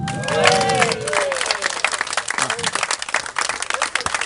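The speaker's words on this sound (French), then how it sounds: "l'équipe victorieuse de la superconsolante, on peut les applaudir très très fort" An audience at a tennis club doubles tournament prize ceremony applauds the winning consolation-draw team, clapping steadily with some cheering, while a voice briefly calls out near the start.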